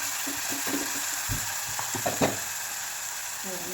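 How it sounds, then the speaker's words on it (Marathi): Cumin and green chili paste dropped into hot oil, a soft steady sizzle with a few sharper spits and crackles in the middle, close and fairly quiet. "आता आपला तेल तापलेला आहे. त्याच्यामध्ये आपण ही जिरं आणि मिरची त्याची पेस्ट टाकू."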